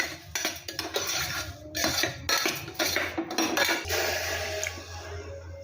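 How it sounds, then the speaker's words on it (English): A utensil scrapes and clinks against a cooker pot while millets and rice are stirred with ghee and a little oil, giving a run of irregular metallic clatters that are fairly faint and close. "We slightly stir it with a little ghee and a little oil."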